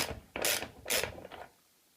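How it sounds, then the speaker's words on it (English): A 5/8 inch deep socket ratchet loosens a Kohler faucet handle cartridge, giving two or three quiet, close ratcheting clicks before falling silent. "The next step is to take your 5/8 inch deep socket, place it directly over the cartridge,"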